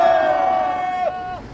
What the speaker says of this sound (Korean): 격한 함성 3초간 힘차게 외치겠습니다.